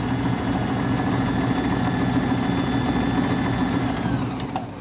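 A sewing machine runs steadily as it stitches a straight seam on a craft piece, a continuous close mechanical whir and hum with a fast even needle rhythm that slows slightly near the end, with no talking.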